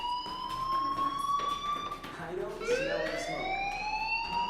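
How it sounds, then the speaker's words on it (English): A school fire alarm in the video game Life Is Strange sounds as a steady, loud electronic tone that shifts pitch partway through and keeps going the whole time, with voices in the background. "Hey, do you hear that fire alarm? That means you should be outside."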